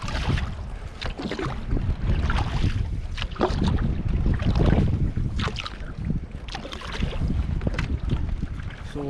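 Gusty wind buffets the microphone over a lake from a canoe, with water slapping and splashing against the hull in irregular bursts, loud and close throughout, no talk.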